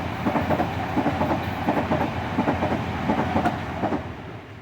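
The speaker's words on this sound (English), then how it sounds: "As we saw a train just thundered past." A train thunders past on a railway at close range, a loud continuous roar carrying a rapid, rhythmic clickety-clack of wheels on rail joints that fades slightly at the end.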